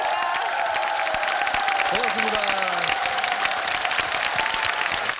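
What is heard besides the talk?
audience applause and cheering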